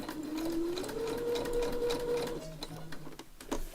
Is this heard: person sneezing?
no